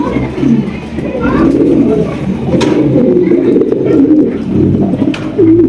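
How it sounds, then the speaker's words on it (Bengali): Racing pigeons coo in low, throaty rolling calls, several birds overlapping continuously and close up, with some people talking in the background. "দর্শক এখানে রয়েছে হাই কোয়ালিটির একজন রেড রেসার কবুতর"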